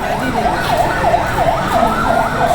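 An ambulance siren wails in a steady, repeating up-and-down cycle at the scene of a train crash, loud and continuous with traffic noise underneath.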